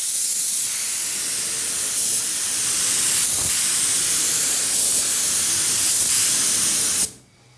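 A spray gun lays primer onto fabric in a few short passes, giving a steady, close, loud hiss that runs unbroken for about seven seconds and then cuts off abruptly into quiet.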